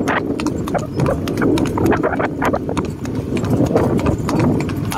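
Horses walk with a steady clip-clop of hooves at a horse race in San Rafael, Bulacan, a continuous close clatter of hoofbeats over low background noise.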